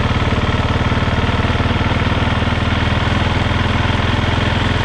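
A 2026 KTM 690 Enduro R single-cylinder motorcycle crawls at low speed around 20 km/h, its engine a steady, close, rapid thudding pulse with a continuous low rumble and no pauses.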